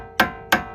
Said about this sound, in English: you wanna take a flathead screwdriver and a hammer and punch right here where that groove is